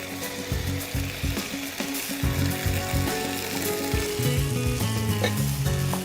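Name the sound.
blanched vegetables added to sizzling curry gravy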